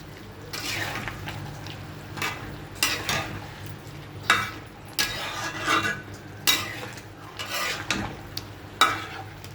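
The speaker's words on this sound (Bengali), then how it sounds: "লবণ দিয়ে ভালোভাবে মিশিয়ে নিলাম" A spoon stirs beef curry with small potatoes after salt is added, giving close, irregular scraping and stirring strokes over a soft background sizzle, with no talking.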